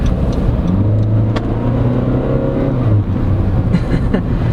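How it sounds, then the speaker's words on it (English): A 2022 Honda CR-V SX diesel AWD crossover accelerates hard, its engine note climbing steadily as the revs rise. The sound is loud and close, with a continuous drone and no one talking. "slowly flooring it. You can hear the diesel engine, but not as much."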